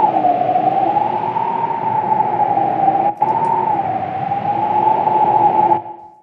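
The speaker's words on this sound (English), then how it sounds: "I used the same synth patch with different settings for the macros, which made it sound a lot more tonal." Tonal, whistling wind layer built from a synth patch for creature sound design, a steady airy tone with slow pitch swells over a noisy bed, holding loud and continuous before a brief dip and a fade near the end.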